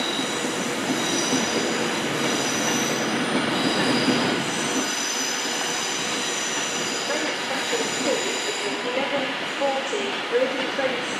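A train pulls out of London Euston station on the West Coast Main Line, with loud, steady wheel squeal and rail rumble over eleven seconds and a high whine throughout.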